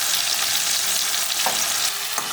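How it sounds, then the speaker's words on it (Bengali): Cumin and chilli paste fry with tomato for a potato curry, producing a loud, steady hiss of sizzling oil with a couple of faint stirring knocks and no voices. "1 চামচ জিরে বাটা দিলাম, একটু লঙ্কা বাটা।"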